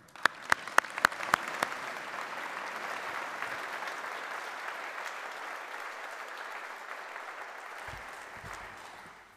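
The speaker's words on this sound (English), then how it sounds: "let's give our colleagues a round of applause" Applause at a Faculty of Engineering graduation ceremony opens with a few sharp individual claps, then swells into dense, even clapping from a large hall audience that holds steady before tapering at the end.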